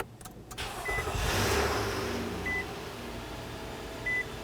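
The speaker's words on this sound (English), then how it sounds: "So let's turn on the engine and let it run." A Nissan Pathfinder engine idles at a steady low hum after starting, accompanied by a few short, evenly spaced electronic chimes from the vehicle, with no talking.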